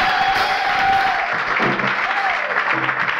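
An audience applauding and cheering at a church conference, steady dense clapping that holds at full strength and then starts to thin out toward the end.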